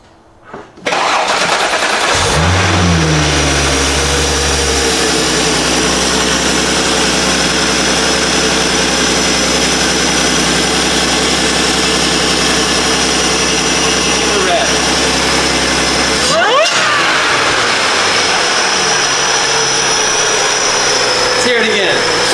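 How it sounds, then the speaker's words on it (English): A 2014–2017 Audi SQ5 engine cranks and fires on its first start with a new 034Motorsport carbon intake, catching after a brief whir and settling into a loud, steady idle with a quick rev blip partway through. "We're about to do the first start on it with the new intake."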